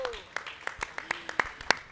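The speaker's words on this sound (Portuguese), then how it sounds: "uma salva de palmas para a equipe da Feira do Livro" Scattered, fairly faint claps ring out from an audience for the book fair team, a sparse uneven patter of individual hand claps.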